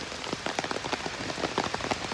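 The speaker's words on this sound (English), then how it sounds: "I really don't mind getting stuck in the rain." Steady rain patters close by on a small umbrella outdoors, a dense, even hiss of drops with scattered louder taps and no talk.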